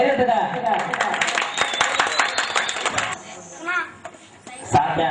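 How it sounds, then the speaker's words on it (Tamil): A crowd claps densely for about three seconds at a Krishna Jayanthi festival sports event in Usilankulam village, with someone talking over it, then the applause stops and speech continues. "கைதட்டுங்க."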